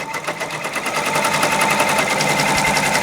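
An embroidery machine stitches a design onto a sweatshirt with a loud, rapid, steady mechanical chatter of fast repeated needle strokes and a constant motor whine, heard up close with no talking.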